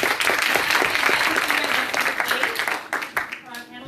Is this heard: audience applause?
yes